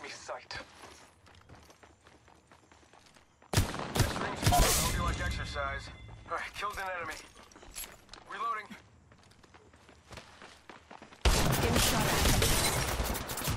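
Gunfire in the mobile battle-royale game Apex Legends Mobile rattles in rapid bursts, a dense volley midway and another sustained burst near the end, close and loud, with quieter clicks and a player talking in between.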